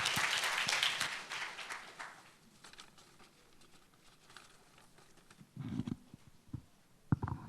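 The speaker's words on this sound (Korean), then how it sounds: "팩슨 반다 박사님 뜨거운 박수로 환영하죠." An audience at a peace education forum in Jeju claps to welcome a speaker; the applause is dense at first, then tapers off within about two seconds into a quiet room with scattered small knocks.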